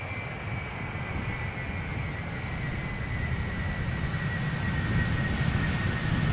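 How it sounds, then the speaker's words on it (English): An Airbus A300-600 arriving at Amsterdam Schiphol from London Heathrow gives a steady, loud jet roar with a thin high whine, swelling slightly as it approaches. "Airbus A300-600 arriving from London Heathrow, flight time 44 minutes."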